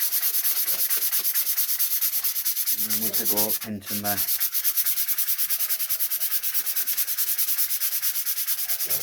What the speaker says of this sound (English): I'm trying to find some of the sandpaper that hasn't got silver spray on it.